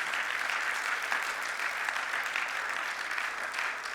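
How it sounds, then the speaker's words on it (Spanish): A church congregation breaks into strong, sustained applause, dense and even throughout, with no voices rising above it. "Dale un fuerte aplauso."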